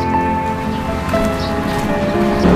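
Rain falls in a steady, close patter with a faint hum and some tonal background noise, with no talking.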